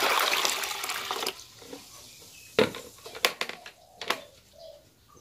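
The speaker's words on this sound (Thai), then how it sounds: "ขั้นตอนแรกนะคะเทน้ำซาวข้าวลง" Rice-washing water is poured into a mixing bucket, a broad splashing gush loud at first for about a second, then quieter drips and clinks against the container with faint birdsong in the background.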